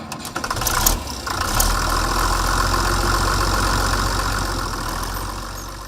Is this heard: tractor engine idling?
yes